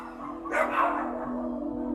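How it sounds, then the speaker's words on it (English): At a British puppy dealer's premises, dogs give a brief, faint bark or yelp over a steady low mechanical hum. "Dogs giving birth in confined spaces, unable to move round freely."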